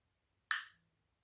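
A single sharp click from the trigger of a Sig P365 pistol resetting, close and crisp, one brief transient that fades within a fraction of a second, alone with no talk.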